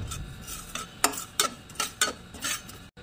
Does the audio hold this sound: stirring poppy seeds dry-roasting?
yes